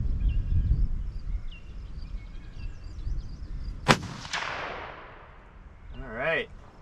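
A single loud, sharp rifle shot from a Ruger American Gen 2 chambered in 6.5 Grendel, fired at an outdoor target range, with a ringing echo trailing off over a few seconds and birds audible faintly in the background.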